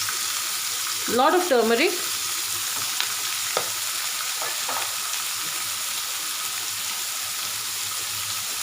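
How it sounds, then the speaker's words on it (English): Turmeric and asafoetida fry in hot oil for lemon rice, giving a soft, steady sizzle with brief stirring clinks, while a voice speaks briefly near the start. "let it fry nicely"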